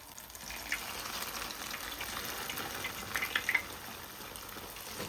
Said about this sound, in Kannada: ಸೊ ನೆಕ್ಸ್ಟ್ ಬ್ಯಾಚು ಕಟ್ ಮಾಡಿರೋವೇನಿದ್ದಾವೆ ಅವನ್ನು ಕೂಡ ಅದೇ ರೀತಿಯಾಗಿ ಇವಾಗ ಫ್ರೈ ಮಾಡ್ಕೊಳ್ಳೋಣ